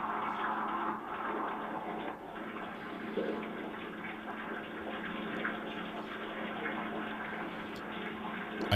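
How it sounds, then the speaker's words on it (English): Water runs steadily as a continuous broadband rushing wash, moderately loud and unbroken for the whole stretch, with no voices over it. "I hear water."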